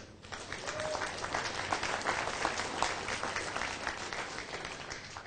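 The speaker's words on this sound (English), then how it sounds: "Give yourselves a big round of applause." Audience applause at the Midwest Spring Show 2013 dairy cattle show, a steady round of clapping from a crowd lasting about five seconds on its own and easing off slightly at the end.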